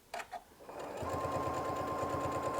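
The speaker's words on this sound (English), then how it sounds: "I'm going to line this up and I'm just going to stitch right here." A sewing machine stitches a quilt seam, starting after a couple of soft clicks and then running in a fast, even mechanical rhythm, close and fairly quiet.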